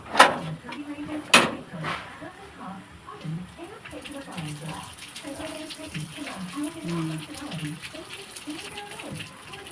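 Water pours into a pan of pansit during home cooking, a short gushing splash and trickle under nearby talk, with a couple of sharp clinks at the start.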